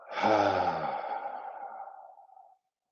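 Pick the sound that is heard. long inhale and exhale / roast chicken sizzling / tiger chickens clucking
long inhale and exhale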